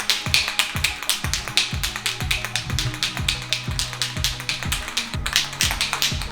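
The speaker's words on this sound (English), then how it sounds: "You're gonna shake the can for a minute." A spray paint can for wheel wrap coating is shaken hard, its mixing ball rattling in steady rapid clacks for several seconds, close and loud with no talking.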